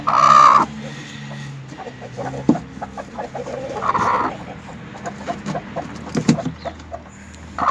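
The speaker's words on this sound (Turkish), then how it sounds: "Böyle bir inat tavuk ki." A hen clucks close by in short bursts, with scattered scratching and small knocks between calls and a low background hum.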